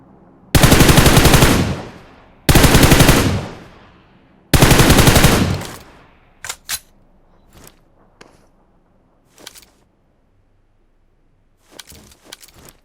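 Three long bursts of automatic rifle fire from the PUBG Mobile game, loud and close, followed by scattered sharp clicks and light footsteps fading into near silence.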